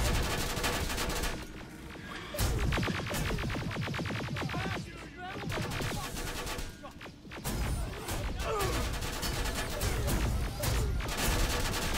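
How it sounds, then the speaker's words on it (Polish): Rapid gunfire bursts and crashing impacts from the video game Terminator: Resistance, dense and continuous across the scene with brief lulls, accompanied by faint talk. "Oni strzelają"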